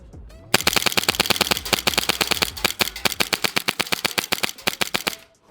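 Tokyo Marui Hi-Capa airsoft pistols fire in rapid, loud bursts of sharp snapping shots, dozens in quick succession over a few seconds with no talking.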